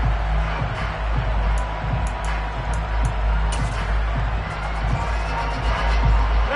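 Video-game stadium crowd in Madden football swelling louder ahead of a third-and-goal defensive stand, a dense continuous roar with cheering under play-by-play commentary.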